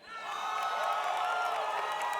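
A large crowd of esports fans at a Call of Duty World League event in Vegas cheers and whoops in one sustained roar that swells quickly and holds steady.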